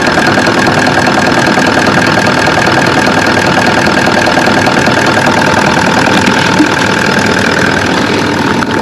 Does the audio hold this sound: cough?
no